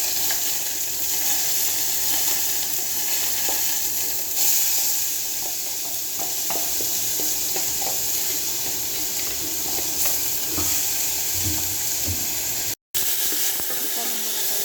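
Onion, grated carrot and spices sauté in a pan, giving a steady sizzle with scraping stirs and small pops close by, broken by one very brief dropout near the end.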